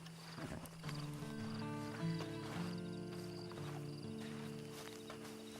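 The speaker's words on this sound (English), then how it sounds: "Then you better get on this horse." Horse sounds in the Red Dead Redemption 2 video game: a soft snort and hoof movement near the start, under a sustained orchestral music bed with tonal layers, fairly quiet.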